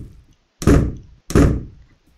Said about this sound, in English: we're shutting the trap door